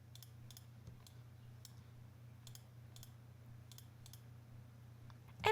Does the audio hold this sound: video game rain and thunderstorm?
no